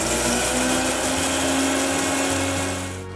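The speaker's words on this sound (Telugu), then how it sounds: "దీన్ని మనం మిక్సీలో కొంచెం నీళ్ళతోటి పేస్ట్ చేసుకోవాలండి" Mixer grinder running loud and steady, grinding mustard seeds and dried red chillies with a little water into a paste, its motor droning with a churning whir before tapering off at the end.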